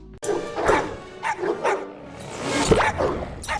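Dogs in the animated film The Wild bark repeatedly in loud, close yips and woofs, a rapid irregular series of barks with brief whimpering tones between them.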